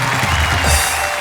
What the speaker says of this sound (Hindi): हम जोरदार तालियों से स्वागत करते हैं प्रवीण शुक्ल